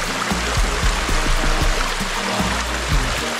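A small waterfall flows on a summer hike in the Sainte-Baume area, a steady close rushing splash with faint low knocks that could be footsteps or gear, and no talking.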